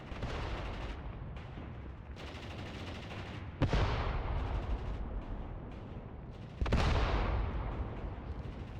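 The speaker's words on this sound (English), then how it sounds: "They're getting picked off one by one from artillery." Artillery fire pounds Pak 40 anti-tank gun positions in the war game Mius Front: a steady roar of distant gunfire, with two heavy, close blasts around four and seven seconds that slowly decay.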